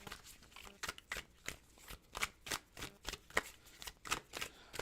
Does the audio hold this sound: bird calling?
no